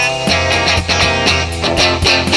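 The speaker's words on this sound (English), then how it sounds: "I decided to go with a more reserved sound of a ride cymbal." Drum part for a song built from scratch, played with a reserved ride cymbal alongside guitar; steady, moderately loud cymbal pings over sustained guitar chords with regular rhythmic hits and no talking.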